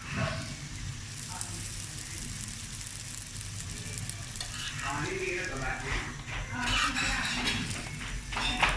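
A paratha fries in oil and ghee with a steady crackling sizzle, joined by stirring and utensil scrapes, close and continuous.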